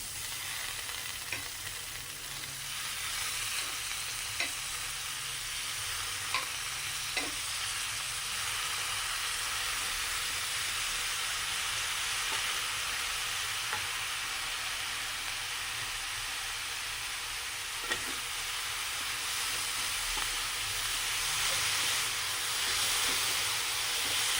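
Chopped cabbage fries in a hot pan with salt, giving a loud, steady sizzle and hiss that holds for the whole stretch. Occasional soft taps of a stirring utensil against the pan break through now and then.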